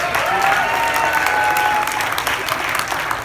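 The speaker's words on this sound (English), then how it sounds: "give him a round of applause" A crowd at a political party convention applauding steadily and loudly for a few seconds, clapping dense and continuous.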